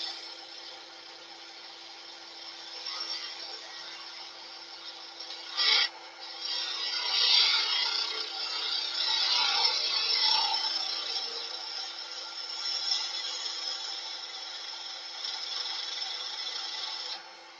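A skew chisel cutting across spinning wood on a lathe: a steady, continuous scraping rasp that runs unbroken throughout, with one brief louder bump partway through.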